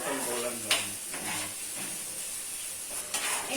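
Onions frying in a pan until golden for chicken biryani, a steady soft sizzle with occasional stirring clinks, close and moderately quiet, with no talk.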